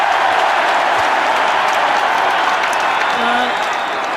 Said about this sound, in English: The crowd have been baying for that decision